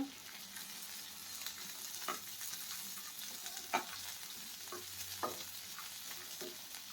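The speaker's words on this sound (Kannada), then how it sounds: "ತುಪ್ಪನೇ ಹಾಕ್ಬಿಟ್ಟು ಇದನ್ನೆಲ್ಲ ಐಟಮ್ಸ್ನ ಫ್ರೈ ಮಾಡ್ಕೋತಾ ಇದ್ದೀನಿ." Green chillies and other ingredients fry in ghee for paneer masala, a soft continuous sizzle with intermittent spoon scrapes and taps against the pan, fairly quiet and with no voices.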